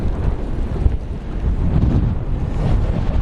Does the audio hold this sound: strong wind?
yes